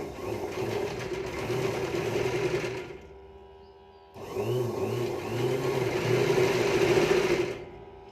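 An electric sewing machine stitches lace onto a round neckline with a steady mid-pitched mechanical whir, running for about three seconds, pausing briefly, then running again a little louder before stopping, close and alone.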